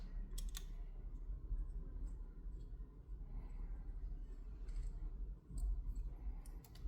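Small screws come out of a Traxxas TRX4M RC crawler with a 1.5 driver, heard as faint, sparse little clicks and ticks of metal tool on screw heads against a quiet room hum.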